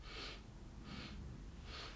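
Breathing exercises for kung fu training: three slow, airy breaths recur at an even pace, close and fairly quiet, with no talking.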